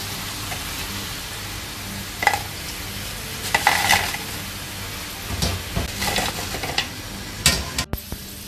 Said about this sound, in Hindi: तो अब मैं इसके अंदर फ्राइज डाल के इनको फ्राई कर लूँगी